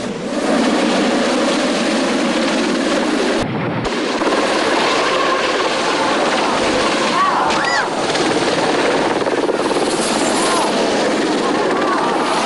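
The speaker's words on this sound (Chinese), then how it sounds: "正在举行消防演练的直升机贴近河面飞行时，突然失去控制。" A fire-drill helicopter flies low over a river, its broadband rotor and engine roar loud and steady throughout, with a brief dropout partway through.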